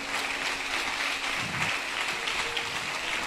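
A congregation claps steadily at a church sermon, a dense, moderately distant wash of applause with no speech over it.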